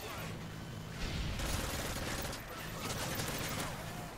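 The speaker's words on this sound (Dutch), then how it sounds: "Want die Cobra gaat sowieso op mij knallen namelijk." Sustained rattling bursts of Cobra attack helicopter gunfire in Modern Warfare 3, a dense, continuous fusillade of rapid shots with mechanical clatter, moderately loud and uninterrupted by voices.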